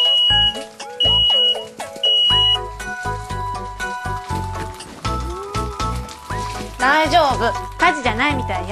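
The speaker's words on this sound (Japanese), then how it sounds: "換気扇をつけてなかったからお魚の煙で警報器が鳴ったんだわ。" A residential smoke alarm, set off by smoke from cooking fish with the kitchen fan off, sounds three loud, high beeps. A voice then speaks over chiming musical tones.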